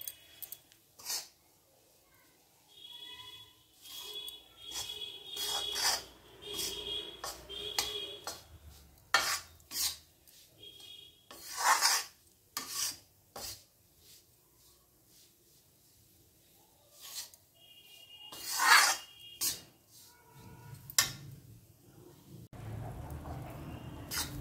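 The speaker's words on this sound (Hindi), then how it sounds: "गैस को बिल्कुल स्लो रखना है, इसको बड़ा पेशेंस के साथ इसको भूनना है जो बेसन है।" Gram flour (besan) roasts in a pan over low gas while a spoon stirs it in intermittent bursts of scraping and clinking against the metal. Quiet pauses fall between the strokes.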